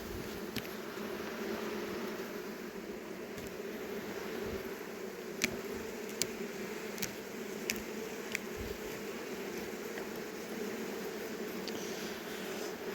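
Carpathian honey bees hum and buzz steadily from an opened hive, a dense continuous drone close by with a few faint sharp clicks from handling, and no talking.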